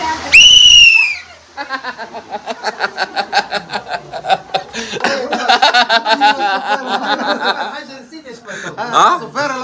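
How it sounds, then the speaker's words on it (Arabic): A person whistles in a historic district of Jeddah, a long run of quick, chirpy warbling whistles with rising and falling pitch, loud and close, opening with a sharp high shriek and mixed with chuckling and snickering. "اول يوم اصفر لهم هنا."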